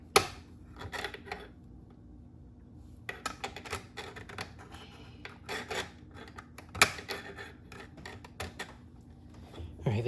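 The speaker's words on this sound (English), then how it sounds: "take our pliers and grab onto the bolts that we installed in the back side on the inside of the transformer. And we're going to screw it in even more" Pliers gripping and tightening bolts inside a Lionel postwar ZW model train transformer, a run of close metallic scraping, rasping and clicking bursts against a low steady hum.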